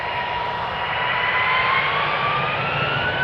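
A Lufthansa Airbus A340 jet roars loudly and close at Amsterdam Schiphol Airport, with a sustained engine drone and whining tones that slowly bend in pitch as the aircraft moves past.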